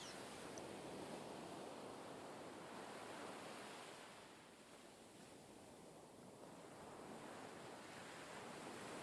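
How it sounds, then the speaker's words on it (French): Slow, regular ocean waves wash onto a beach as a broad, steady surf hiss, dipping softly midway before swelling again, with no other sounds. "permet au son des vagues lents et réguliers de se faire entendre encore un peu plus"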